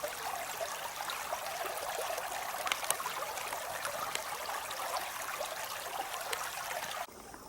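Creek water flows steadily where a hiking trail crosses it, a continuous close trickling rush with small splashes that holds even throughout and drops abruptly near the end.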